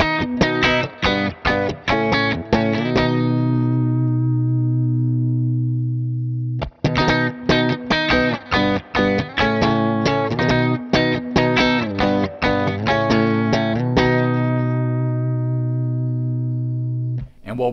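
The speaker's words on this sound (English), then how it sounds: "have the compressor fade in more gracefully and just hear the initial attack of your guitar's dry signal" Clean electric guitar playing through a DryBell Module 4 compressor pedal with a dry blend, quick plucked notes and strummed chords with sharp attacks ringing out, a pause near seven seconds, then more busy picking; loud and close, no talk.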